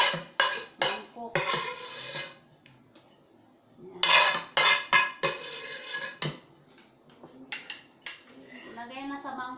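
Metal utensils scrape and clink against a cooking pot and bowl as food is moved across, in loud irregular bursts separated by quieter pauses.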